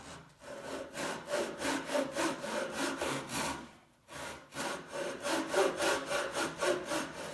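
A hand saw cuts through wood in steady rhythmic strokes, each push and pull rasping loudly and close. After a brief pause midway the sawing resumes at the same pace.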